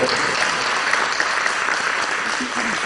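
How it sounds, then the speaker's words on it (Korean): A church congregation claps for the choir after a worship song, giving steady, dense applause that fills the room from start to finish. "성가대 감사 경례의 박수"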